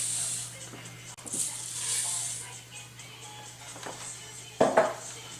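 Water coming to a boil in a pot for rice gives a soft, steady hiss with bursts of bubbling, punctuated by a couple of sharp metallic clinks near the pot and a brief voice nearby.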